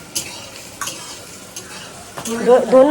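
Onions frying in a pan for village-style biryani, a steady sizzle with a few scraping stirs of a utensil against the pan, growing louder toward the end.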